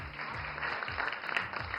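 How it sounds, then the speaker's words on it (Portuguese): Broad steady applause from a crowd, dense and continuous for a couple of seconds with no breaks, fairly even in loudness throughout. "Eu quero aplausos. Aplausos."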